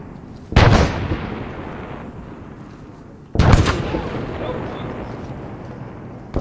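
Two heavy mortar blasts in the Arma 3 combat game, each a loud sudden boom trailing into a long rumbling decay, spaced about three seconds apart.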